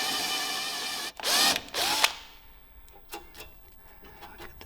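Power tool cutting threads into a hole in the front of an R34 Skyline, two short loud whirring bursts followed by faint scraping and ticking of metal, close and fairly quiet overall.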